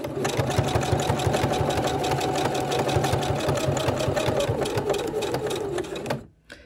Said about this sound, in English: going to continue stitching.